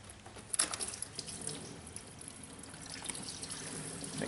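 Northstar engine coolant from a Cadillac Eldorado pours into a pail below, a steady close splash and trickle at low level, with a stronger burst near the start.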